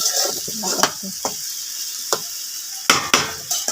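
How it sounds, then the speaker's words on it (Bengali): Carrot, potato and bean bhaji frying in a pan on the stove, with a steady sizzle and occasional scrapes and stirs of a spatula against the pan, close up and alone. "গাজর আলু লুবি উড়ি ভাজি হয়ে গেছে আর একটু সময় চুলার উপরে তাপবো"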